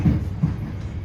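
An express train runs along the rails, heard from on board as a steady low rumble with faint rolling noise over about a second, close and constant.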